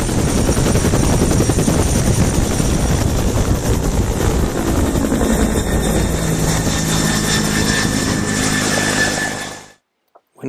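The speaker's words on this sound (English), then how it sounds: "wait for the helicopter to take off again, leaving us to do our fieldwork" A helicopter taking off roars loudly and close by, its rotor chop and engine whine holding steady before cutting off abruptly near the end.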